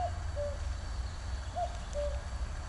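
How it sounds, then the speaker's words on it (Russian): Birds calling outdoors in the morning on the outskirts of Novosibirsk: a few short, clear whistled notes in two pairs, fairly distant, over a steady low background rumble. "Да, тут такой концерт птичек был с утра особенно."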